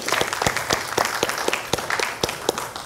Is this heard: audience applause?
yes